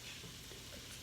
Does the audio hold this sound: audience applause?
no